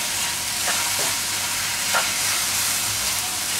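Tomatoes cooking in a pan for black-eyed pea usal, a constant loud sizzling hiss with a few faint stirring scrapes breaking through, and no voices.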